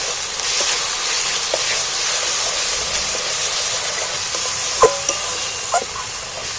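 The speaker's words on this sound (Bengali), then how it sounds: "এইবার আমি আবারও মশলাটাকে কষিয়ে নেব।" Spice masala with Kashmiri red chilli frying in a pan, a steady soft sizzle and hiss throughout with a few clinks of stirring near the end.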